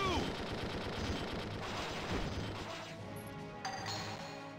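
Rapid gunfire and explosive crashes fill a battle in the video game Valkyria Chronicles 2, a dense continuous barrage with shouted voices mixed in.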